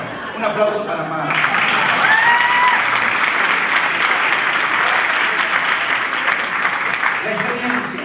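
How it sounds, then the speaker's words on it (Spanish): Sustained audience applause at a church gathering, a dense steady wash of clapping that starts after a brief voice, holds loudly for several seconds, then tapers as talking resumes near the end. "Un aplauso para Marta."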